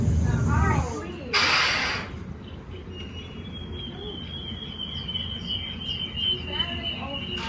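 A family of Mexican spotted owls in a virtual-world game gives short, repeated hooting calls at the start, followed by a sharp burst of noise and then a long steady tone under faint, scattered calls.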